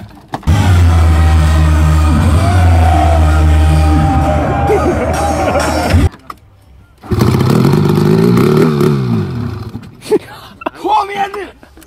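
A snowmobile engine is started in Sweden and roars loudly for several seconds, cuts out, then fires and revs again. Voices speak briefly near the end.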